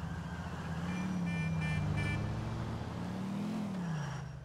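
A car in GTA IV drives along with a steady, moderately loud engine drone whose pitch rises and falls as it accelerates, with faint high beeping tones near the middle.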